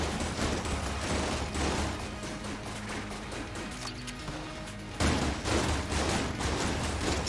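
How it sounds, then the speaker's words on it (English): Dense, rapid gunfire from Enter the Gungeon, a continuous barrage of loud shots mixed with crashes and impacts that eases briefly midway before surging again. "I'm just gonna shoot vaguely in his direction and hope I'm hitting him"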